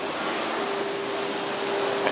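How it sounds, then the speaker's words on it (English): A city bus pulls up on 4th Avenue in Vancouver with a steady broadband engine and air rush, and a faint hiss like an air brake. The sound is fairly close and continuous, with no talking. "A bus to Powell Street."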